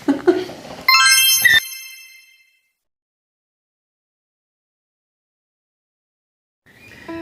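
A phone ringtone sounds in a home, a bright melodic chime lasting about a second and a half, followed by several seconds of silence before the tone starts again near the end.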